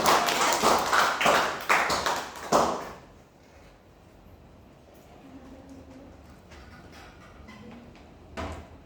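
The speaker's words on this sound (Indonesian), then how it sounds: "Kita kasih aplaus dulu kepada teman kita ya." A classroom of students applauding a classmate, a dense burst of clapping for about three seconds that stops abruptly, followed by quiet room noise and a soft knock.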